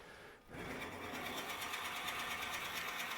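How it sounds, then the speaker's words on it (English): A wood lathe starts up and runs at low speed while a lidded box is turned, settling into a steady, close mechanical hum with a fast regular flutter. "turn the lathe on, have the lathe speed down"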